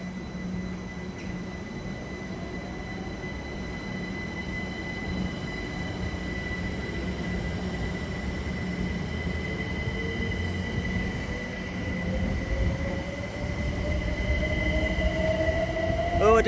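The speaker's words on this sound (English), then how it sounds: "And here is my first ever Greater Anglia train." A Greater Anglia train rumbles steadily and grows louder as it pulls into a station, with a low engine drone and a rising whine of wheels and motors, no voices.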